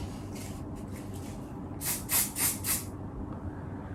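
A can of hairspray is sprayed onto a man's undercut pompadour hairstyle in several short hissing bursts close up, about four quick puffs following a softer earlier spray.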